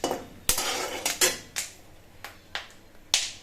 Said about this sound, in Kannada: ಕಡಲೆ ಬೀಜ ಚಟಪಟ ಅಂತ ಫ್ರೈ ಆಗ್ತಾ ಇದೆ.